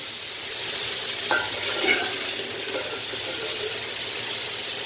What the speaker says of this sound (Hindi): अब इसको मैं फ्राई कर रही हूँ